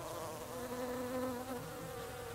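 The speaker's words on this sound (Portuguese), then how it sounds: "Existem várias espécies de abelhas, moscas, vespas, criaturas assim que vão pousar ali em busca do néctar." Bees, flies and wasps hum steadily around climbing plants in a garden, a continuous close, drifting insect drone with no voices.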